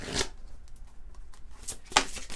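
Oracle Belline deck being shuffled by hand, soft papery riffles and flicks in short bursts, close and quiet, with a few sharper card snaps.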